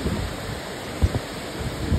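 Steady broadband roar of strong wind during a typhoon in Lucena City, Philippines, buffeting the microphone, with a few low thumping gusts and no voices.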